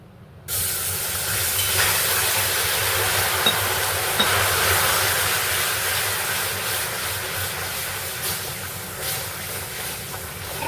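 Water hits hot melted sugar in a pan for raw mango pickle, setting off a sudden loud steaming hiss and sputter that persists steadily and close, easing only slightly over time.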